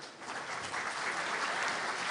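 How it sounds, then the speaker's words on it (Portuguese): Steady crowd applause at a Portuguese-language web security forum talk, a dense continuous wash of many hands clapping that holds at an even level for a couple of seconds with no talking over it. "Mais uma vez, uma salva de palmas."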